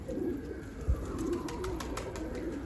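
A Çapar kelebek pigeon coos in soft, low, repeated calls over steady outdoor background noise, with one brief bump partway through.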